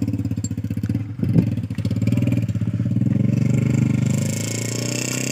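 A 1995 Massey Ferguson 375 tractor's diesel engine runs at a steady idle up close, with a rapid even chug and mechanical clatter; it briefly dips and swells before settling back into a constant throb.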